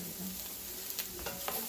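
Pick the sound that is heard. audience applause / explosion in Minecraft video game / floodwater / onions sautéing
onions sautéing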